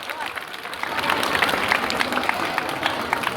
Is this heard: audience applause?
yes